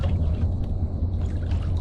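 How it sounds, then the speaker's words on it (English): Water splashing and trickling close by as a hooked fish is caught while speck fishing in Florida, a short continuous wet churning with a low rumble beneath. "I love the splash."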